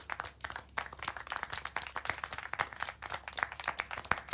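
Slow, scattered handclaps from an in-game crowd in the video game Syberia The World Before, sparse and uneven over a low steady hum, with no voices.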